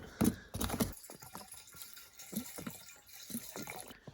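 A bottle of HEET fuel additive poured into the gas tank of a 1945 Studebaker US6 truck, with a loud gurgling rush at first, then thinner intermittent splashes and trickles, close up and with no talking.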